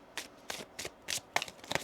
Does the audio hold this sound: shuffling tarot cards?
yes